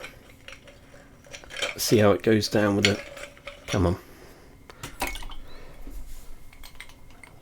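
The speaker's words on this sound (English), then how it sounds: "Let's shove an ice cube in there." An ice cube dropped into a glass of Old Forester bourbon, giving a few light glassy clinks near the microphone, with someone speaking briefly before and between them in a small enclosed space.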